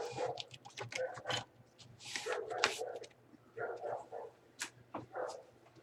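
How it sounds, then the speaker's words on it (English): Several dogs bark, yip and whimper outside an open window during an indoor live demonstration of heating that makes bubbles, in short irregular bursts that come and go over a steady low hum. "I hope you don't mind these dogs."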